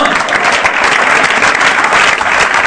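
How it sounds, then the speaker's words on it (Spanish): Loud, dense applause from a church congregation fills the whole stretch, steady and sustained with no voices rising above it. "Denle un aplauso al Señor."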